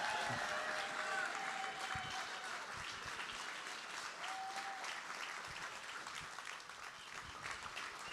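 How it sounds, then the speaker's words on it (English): A lively audience claps and whoops in sustained applause as a birthday guest is welcomed onstage at a Boston institute livestream event, dense and steady throughout. "I want to hear the loudest clapping, foot stomping, Boston whooping, and hollering welcome for Mr. Steve Peck, ladies and gentlemen."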